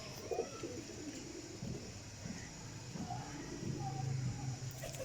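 A Sialkoti Jaunsira pigeon cooing close by, low soft murmuring coos rising and falling, strongest near the end, over steady ambient room noise.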